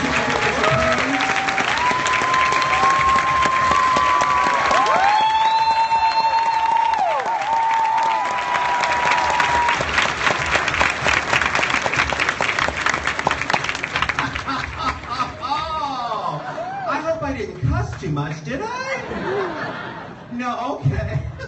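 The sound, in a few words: audience applause for Mary Wilson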